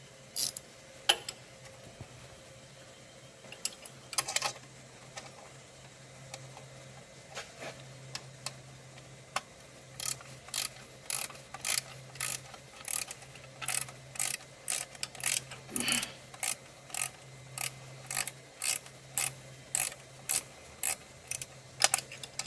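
Plastic fan on a Kubota BX HST tractor being pushed into place, a series of quick mechanical clicks and ratcheting ticks, faint and close, growing denser toward the end over a low background hum.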